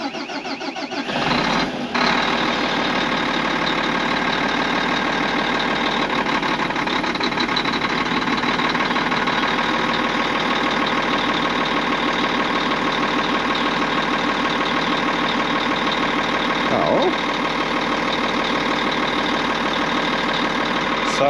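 A Caterpillar D11 bulldozer's heavy diesel engine cranks over, catches and settles into a steady, loud idle that holds evenly for the rest of the stretch, with no talking.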